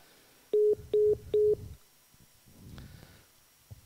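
Three short, evenly spaced pairs of telephone line beeps sound loud and close, followed by faint low rumbling noise as a phone call is placed during a live show.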